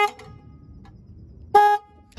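A Screaming Banshee horn fitted to a Harley motorcycle sounds a brief clipped toot, then a short loud blare after a quiet pause, both close and alone.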